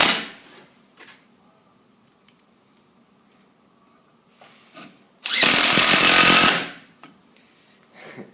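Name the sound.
10.8V impact driver driving a countersunk screw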